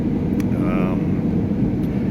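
Steady, loud, low rumbling cabin noise inside an airplane during landing, continuous throughout, with a brief faint voice partway through.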